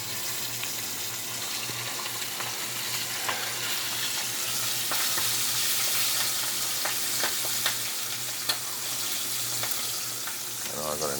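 Chicken thighs fry in oil in a pan at home, giving a loud, continuous sizzle and crackle close up with scattered pops and stirring clatter; no one speaks.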